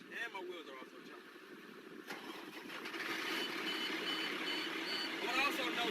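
A vehicle engine starts during a pre-trip safe start check, with the parking brake set and the transmission in neutral. The engine turns over faintly, then settles into a steady running hum, and a voice talks over it.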